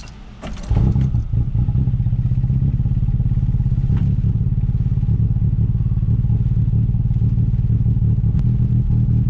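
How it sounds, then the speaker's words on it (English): A cold engine on a tuned car cranks briefly and then starts, settling into a loud, steady, rough idle with a rapid rhythmic thrum that carries on close by to the end. "True cold start."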